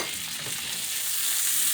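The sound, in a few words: water sizzling in a hot pan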